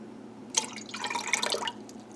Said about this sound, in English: To that, I'm going to be adding 1/4 cup of lemon juice.